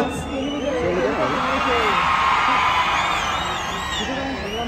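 A festival crowd at an Agri cultural fair in Badlapur cheers and whoops in a dense continuous roar, with a loud voice shouting over it and whistling tones near the end.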